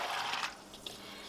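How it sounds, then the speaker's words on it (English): Eight cups of water poured into a crock pot over dry pinto beans for homemade chili, a brief soft splashing pour up close that quickly fades into a faint trickle, with no voices. "you just take the 8 cups of water and your beans, and you're just going to pour that right on into your crock pot"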